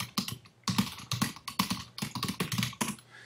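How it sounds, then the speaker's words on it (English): Rapid typing on a computer keyboard, close and clear, with uneven bursts of key clicks and short pauses between clusters, no talking. "They go to their browser, they type it in"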